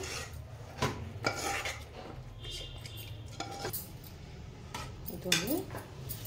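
Biryani ingredients go into a rice cooker pot with scraping, clinking utensil and rubbing sounds in short bursts, close and moderately quiet, with faint talk in the background.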